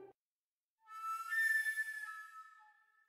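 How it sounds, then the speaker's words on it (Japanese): In Minecraft, the Pied Piper flute (SCP-573) plays a single sustained, breathy tone with bright overtones. It rises into a held note and slowly fades, after a brief quiet gap. "おーすごい、しっかり笛の音が鳴ってた。"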